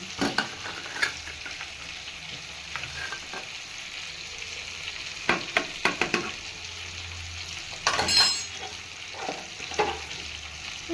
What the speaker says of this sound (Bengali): এই রেড করে রেখেছি আদাটাকে এটা দিয়ে দেবো এখন